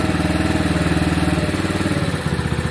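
A Lexmoto Valiant motorcycle engine idles nearby with its fuel switched off, a steady low throbbing pulse that wavers slightly up and down, running alone without talk.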